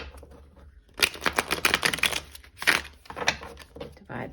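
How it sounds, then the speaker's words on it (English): A tarot deck being shuffled by hand, a quick run of crisp riffling card flicks in two bursts, close and fairly quiet, with a short pause between them. "Okay, I'll do one last shuffle."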